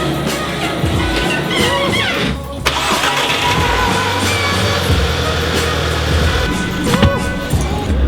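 An Audi A3 8P Quattro starting up, with the engine catching after a brief pause and settling into a steady, fairly loud mid-pitched run close by, with faint rattles and cabin noise over it.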